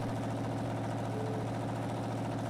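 Steady idle of a V8-powered Chevy C30 truck in Farming Simulator 19, an even, throbbing low rumble heard up close without interruption.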